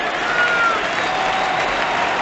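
Baseball stadium crowd at a Reds–Brewers game roaring and clapping in a steady, dense wash of noise after a pitch, loud and continuous with no clear voices on top.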